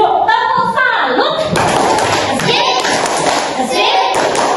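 Children in a classroom give a rhythmic group salute clap for a team, sharp claps and thumps close by, with a teacher's voice and kids' chatter mixed in.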